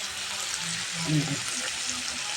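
Stalks of elichi greens drop into a spice paste already frying for a greens and prawn stir-fry, producing a steady, even sizzle with a soft murmur in the background.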